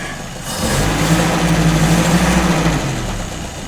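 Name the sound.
Citroën Traction car engine idling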